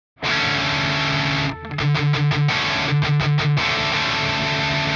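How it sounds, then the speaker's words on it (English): A heavily distorted electric guitar major seventh power chord with the fifth instead of the third rings out, then is struck again in two bursts of rapid, choppy repeated strums before sustaining loud and full. "Here's a variation on the major seventh power chord that has the fifth instead of the third in it."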